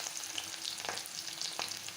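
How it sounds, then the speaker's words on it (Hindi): Fenugreek seeds frying in hot refined oil for Sindhi kadhi, a faint steady crackle close by, with a couple of soft stirring scrapes. "अब हमारी दाना मेथी भुनने लगी है"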